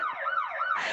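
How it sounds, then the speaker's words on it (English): A siren sound effect played from a computer wails in rising and falling sweeps, clear and moderately loud with no talking. "I do not have my siren, so I'm trying to use a computer sound."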